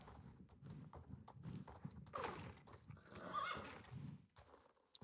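A horse whinnies loudly with a long, quavering neigh, joined by snorts and hoof clops at close range.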